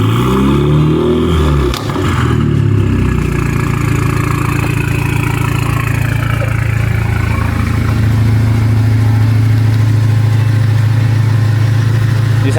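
A tuned Toyota 1GD twin-turbo diesel at Stage 5.25 runs close by in a workshop. After a brief shift early on, it settles into a loud, steady, deep idle hum, with no voices.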